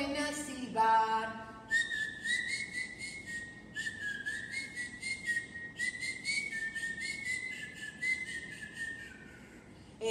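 Children whistling in long, wavering tones that slide up and down, after a few short notes at the start; clear and fairly close, with no talk.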